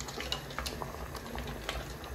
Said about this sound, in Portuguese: Temos aqui o nosso arrozinho a ferver, vejam como está.